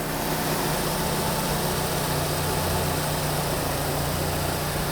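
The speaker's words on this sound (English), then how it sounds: "This is one nice sounding engine." A 2003 Nissan 2.5L engine idles steadily after a water pump replacement, a constant loud broadband hum with a low rumble, recorded close under the hood and with no talk.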